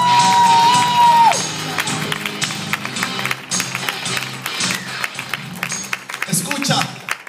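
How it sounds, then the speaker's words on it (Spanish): A church congregation bursts into applause and cheering, the clapping and shouts filling the space at close range and staying loud throughout, with a voice speaking over the crowd. "Vamos, vamos, vamos, vamos, un aplauso fuerte a Dios."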